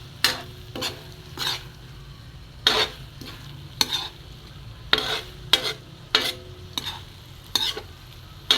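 Corned beef with tofu and egg fries in a pan under a low, constant sizzle, while a utensil scrapes and stirs in about a dozen sharp, irregular strokes close by.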